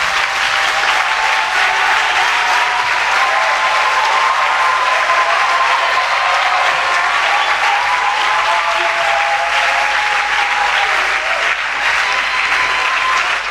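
A church congregation claps and cheers during a worship service, a loud, dense, sustained wash of applause with crowd voices that carries on unbroken for the whole stretch.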